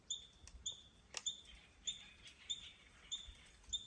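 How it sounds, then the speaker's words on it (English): Short, high bird chirps repeat about every half second against quiet mountain surroundings, faint but clear, with one sharper snap partway through and no talk. "Listen to the bird chirping"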